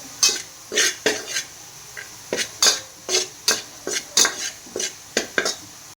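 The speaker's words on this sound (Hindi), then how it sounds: "इसको हम रोस्ट करेंगे मैदे को" A spoon scrapes and knocks against a pan as maida flour is stirred and roasted in ghee, in a steady series of sharp clinks and scrapes about every half second with faint sizzling beneath.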